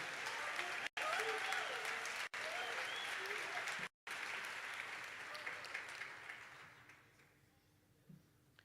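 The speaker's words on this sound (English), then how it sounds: "Please give them a warm round of applause." A graduation ceremony audience breaks into sustained, full applause that holds steady for several seconds, then fades gradually, with scattered last claps dying away near the end.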